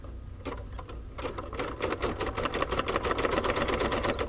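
An embroidery machine stitches the center of a butterfly wing on a greeting card, a fast, steady mechanical rattle of needle strokes that picks up speed and loudness, close and without talk.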